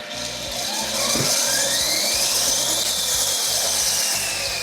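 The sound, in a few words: portable grinder mounted on a trailer hitch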